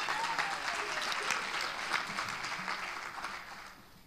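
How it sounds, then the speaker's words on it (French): A church congregation applauds choir volunteers, a crowd's brisk clapping that is strong at first and then thins and fades toward the end, heard at moderate distance. "Applaudissons pour ces vaillants."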